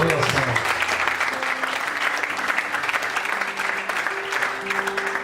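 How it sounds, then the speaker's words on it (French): Church congregation applauding the Lord during a bilingual Portuguese-French sermon, steady sustained clapping from many hands filling the room, with voices and a soft musical tone beneath. "Podemos aplaudir ao Senhor."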